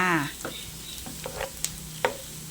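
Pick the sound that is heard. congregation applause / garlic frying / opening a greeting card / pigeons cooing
garlic frying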